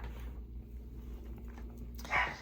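A dog somewhere in a house next to a craft room gives one faint, short bark near the end, heard over a low steady hum and otherwise quiet room tone.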